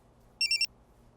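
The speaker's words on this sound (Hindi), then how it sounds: "अरे फोन किसका आ गया?" A phone rings in a short, bright, electronic trill of three quick pulses over quiet room tone.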